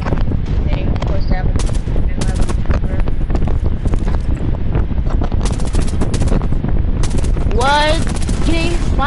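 Rapid automatic gunfire and repeated shots from the Rainbow Six Siege video game, loud and dense throughout, with bursts and crackling effects filling the whole span and a few brief whistling game sounds near the end.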